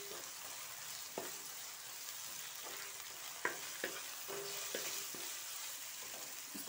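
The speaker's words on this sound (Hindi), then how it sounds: "इसको कलर चेंज होने तक अच्छी तरह से भूनेंगे हम, फ्राई करेंगे।" Chicken frying in a pan with ginger-garlic paste, a steady close sizzle broken by scattered light clinks and stirring knocks, with no talking.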